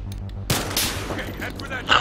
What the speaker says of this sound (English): did I just get shot right off rip?